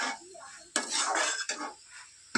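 A metal spoon scrapes and clatters against a pan in a home kitchen as ginger and garlic paste with spices fry. The stirring comes in short, close, rhythmic bursts with no talking.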